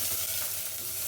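Onions frying in hot oil inside a new pressure cooker while pulao is being prepared give a steady, close, broadband sizzle that holds evenly throughout with no talking.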